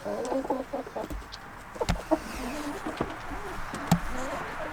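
Frightened farm chickens clucking in short bursts, fairly close, with a few sharp louder calls standing out over a steady outdoor background.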